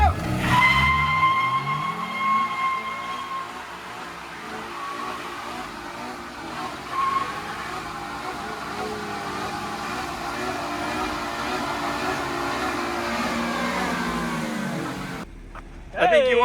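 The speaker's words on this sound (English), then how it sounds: "See how long you can stay on the rev limiter and how long the tires last." A sports car sits on its rev limiter at a skatepark-style venue, engine droning steadily high while the tires squeal and skid continuously, loud and close, with a brief cheer near the start and a cut near the end.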